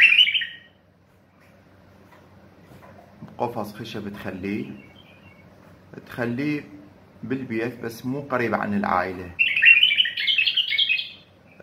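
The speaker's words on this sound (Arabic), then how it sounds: "تجيبه هذا البلبل الوحشي تصيده" A wild bulbul trapped from orchards and farms, kept in a wooden cage, gives bright chirps at the start and a longer burst of song near the end, with someone talking in between.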